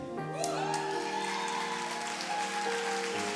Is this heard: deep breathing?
no